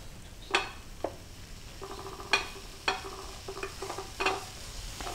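Pineapple slices laid onto a buttered plancha, giving a steady low sizzle broken by a few sharp clinks and scrapes of utensils against the hot metal surface, close by and with no talking.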